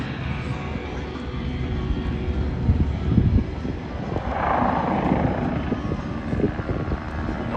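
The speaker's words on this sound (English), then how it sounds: "Here you see the expert Aaron Fitzgerald in his beautiful Vocal 105 helicopter." A Red Bull Bo 105 helicopter flies a display at the Oshkosh 2023 airshow, its rotor thumping and turbine roaring steadily and loud, with an announcer talking over it.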